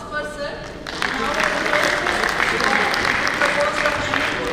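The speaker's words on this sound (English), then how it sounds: "So, a round of applause for sir." Audience applause breaks out at a national convention's valedictory session, starting after a brief moment of talk and swelling into steady, dense clapping from a large crowd that holds for several seconds.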